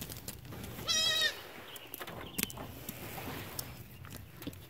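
A young goat on a farm garden in Washington gives one clear, wavering bleat up close, followed by faint rustling and footsteps in a quiet outdoor setting.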